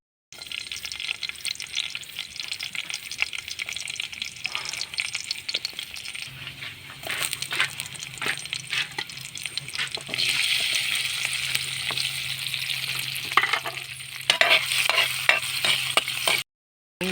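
Garlic sautéing in a pan with a steady hiss and crackle of frying, and scattered scrapes and clicks from stirring. Brighter sizzling bursts come in toward the end before the sound cuts out.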